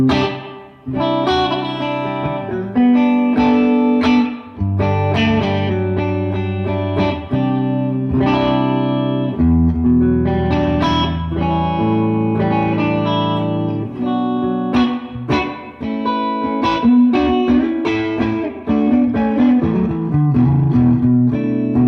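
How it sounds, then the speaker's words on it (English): Electric guitar played dry through a Fender Pro Reverb amplifier, loud and close: a series of clean, sustained chords and single notes in a steady rhythm, with no speech. "Let's listen to the naked sound of our Pro Reverb amplifier."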